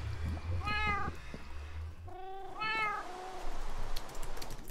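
Cats in a pen in Minecraft meowing, two or three clear, close meows spaced a second or so apart over a low background rumble, with no talk.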